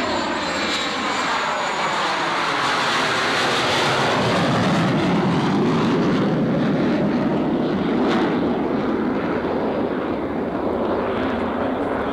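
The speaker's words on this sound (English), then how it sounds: "They're flying right, over, boys." Military jet aircraft flying overhead at an air force base, a loud continuous engine roar that swells and sweeps past close by, with a faint voice underneath.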